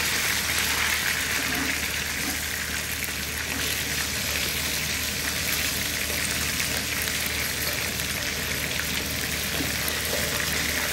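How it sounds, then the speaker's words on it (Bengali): Food sizzles steadily in a hot pan on a home kitchen stove, a constant hissing crackle that continues without pause for the whole stretch. "বেশি কড়া ভাজবো না"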